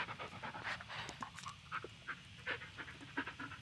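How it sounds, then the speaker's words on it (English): A dog in the Blair Witch video game pants steadily and close by, quick rhythmic breaths running through the whole stretch, with no talk over it. "Yeah, good dog."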